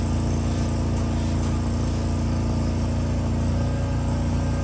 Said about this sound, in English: There's people over here cutting grass and stuff